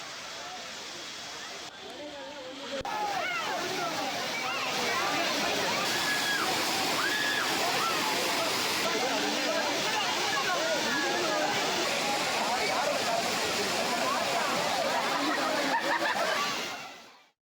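Water pours steadily over the falls at Kodiveri dam in Erode, a broad rushing roar, with a crowd of bathers and visitors chattering faintly beneath it.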